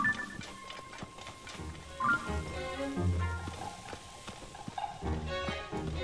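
Hooves clip-clop at a stable in the Zelda: Tears of the Kingdom video game, a scattered, moderate clatter over soft game ambience.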